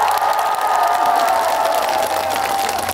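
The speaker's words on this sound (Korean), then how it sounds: "큰 박수 한 번만 주시겠어요?" A large outdoor crowd at the Busan Sasang riverside festival concert claps steadily, a dense, sustained wash of applause with a few scattered cheers and no speech over it.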